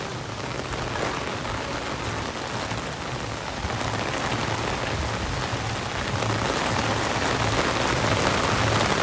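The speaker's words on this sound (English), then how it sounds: "now it is full out raining." Heavy rain pours steadily at Disney's Animal Kingdom theme park, a dense, loud, continuous wash of drops drumming on surfaces, close and unbroken throughout with no voices.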